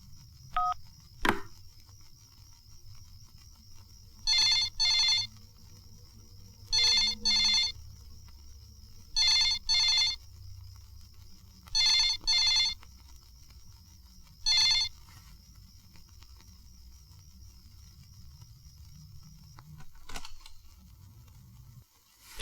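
An electronic telephone ringing in five short double bursts at steady intervals, fairly loud over a low background hum.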